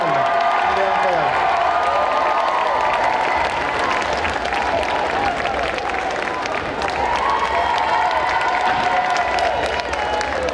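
A large crowd at a cosplay contest applauds and cheers steadily for a cosplayer dressed as Goldorak, dense clapping with whoops, continuous and loud, with an announcer's voice over it.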